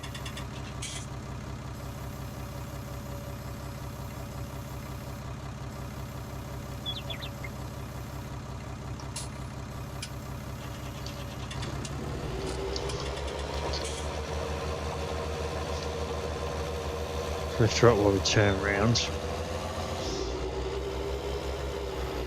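A tractor engine in the Farming Simulator 19 video game runs steadily and fairly loud throughout, its tone rising as it picks up speed while not dragging an implement, with a brief louder burst near the end and a short spoken line over it.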